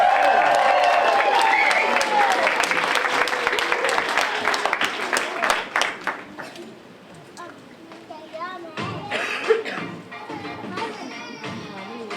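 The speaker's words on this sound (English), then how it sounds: "Audience, I want a massive, massive clap and a massive whoop for Kitty Parries" Loud audience clapping and whooping at a school creative arts evening, a dense burst of applause with cheers that thins out after several seconds, leaving scattered claps and voices.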